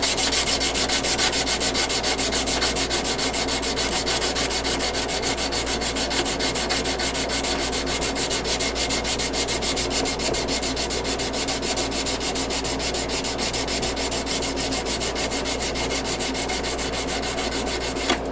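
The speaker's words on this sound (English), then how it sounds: "Hand sanding will go a lot faster if you take it and go across and do a crosshatch pattern with it" Hand sanding rasps continuously in fast, rhythmic back-and-forth strokes, loud and close, with no talking over the steady scratching.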